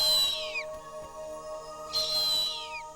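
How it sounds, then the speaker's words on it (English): Harpy eagle calls: two loud, thin high whistles that slide downward, one at the start and one near the two-second mark, over a steady layered drone of forest insects or birds. "A harpy's calls helped lead Neil to its nest"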